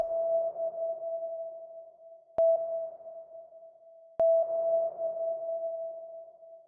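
FL Studio's Fruity Convolver self-convolution reverb plays a steady, pure sonar-like tone with a soft reverberant haze. The tone is cut twice by sharp clicks as it restarts and swells again.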